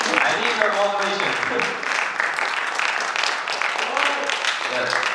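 Audience members at a TEDx Silk Road University talk clap, a rustling wash of applause that runs under and around a voice as he keeps speaking.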